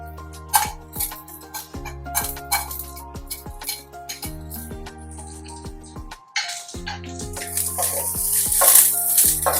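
Onions, carrot and cabbage frying in a pan, with a steady sizzle under repeated sharp clinks of a spatula against the pan, close and fairly loud.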